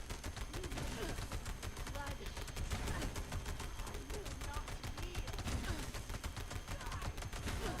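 Heavy weapon fire in Fallout 76, a dense rapid stream of sharp gunshots at steady rhythm, continuous and fairly faint throughout, with a voice talking over it.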